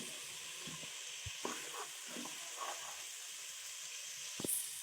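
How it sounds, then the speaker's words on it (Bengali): Whole cardamom, bay leaves, cloves and cinnamon pieces drop into hot oil for khichuri, giving a faint hiss with a few soft crackles and clicks, quiet and close, with no talking. "গরম মশলার মধ্যে আমরা দুটো ছোট এলাচ দুটো তেজপাতা এবং দুটো লং ও কিছু দারচিনির টুকরো দিয়ে দিচ্ছি"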